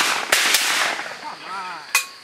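Shotgun blasts during an early-season goose hunt, three sharp reports across a couple of seconds, the last standing out loudest, with outdoor noise and faint calling between them.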